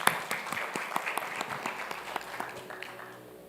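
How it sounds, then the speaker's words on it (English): Audience applause at a conference session, a dense wash of clapping with distinct claps that fades over a few seconds. "Let's give a warm round of applause for Mr."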